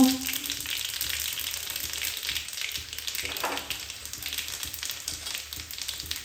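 Mustard seeds, cumin, garlic and ajwain hit hot oil for a radish-greens dish, giving a steady, close crackling sizzle that runs the whole time with small popping bursts and no talk.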